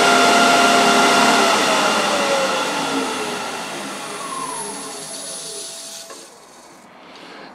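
An Axminster AT508WL wood lathe running at full speed, about 3,752 RPM, gives a steady loud whirring hum with a high whine, then fades and slows toward the end.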